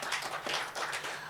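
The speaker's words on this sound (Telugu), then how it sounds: "ఒకసారి అందరూ క్లాప్స్ కొట్టి" An audience at a Mother Teresa Award ceremony at New Life Theological University claps for a moment, a brisk patter of hands that rises and dips in short waves.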